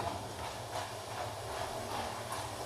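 Banana chips fry in hot oil, giving a steady, close hissing sizzle with faint crackling rattle running evenly throughout.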